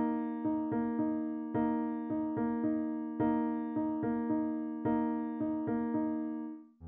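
A piano plays a 3-against-2 polyrhythm. Clear struck chords repeat in an even, interlocking pattern of accents, each decaying before the next, with no other sounds.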